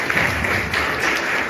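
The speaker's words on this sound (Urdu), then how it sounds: "آج کے پیغام کو ایک بار پھر تالیاں جا کے ویلکم کریں" Audience applause welcoming a sermon in a church service, a steady wash of many hands clapping that holds at an even level for the whole stretch, with no voices over it.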